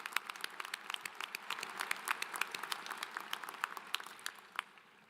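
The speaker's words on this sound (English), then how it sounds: "Please join me in giving them a round of applause." A university commencement audience applauds steadily, with many hands clapping together in a sustained, moderately distant burst that fades slightly at the end.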